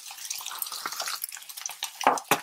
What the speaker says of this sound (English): I'm going to crack 6 eggs into here.